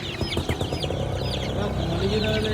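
Country chickens cluck and squawk close by on a village native-chicken farm, overlapping busy calls with a faint voice in the background.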